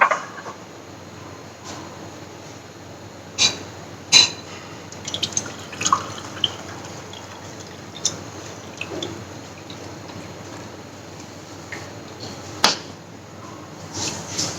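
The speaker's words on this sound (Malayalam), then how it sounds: "ഈ ജ്യൂസ് അരിച്ച് ഈ ഗ്ലാസ്സിലേക്ക് ഒഴിക്കാം" Green mango-leaf juice strained through a sieve into a glass, a sparse run of drips and small splashes with occasional light clinks, close and quiet.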